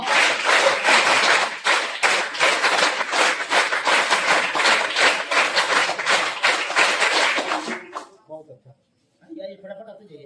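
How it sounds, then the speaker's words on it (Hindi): A school group claps in unison at a children's day event, sharp rhythmic claps repeating in a fast steady pattern for several seconds, then stopping abruptly, followed by brief talk. "हम लोग प्रिंसिपल साहब के लिए 5 ताली का प्रयोग करेंगे"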